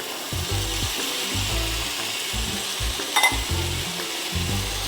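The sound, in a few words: chickpeas added to frying masala and stirred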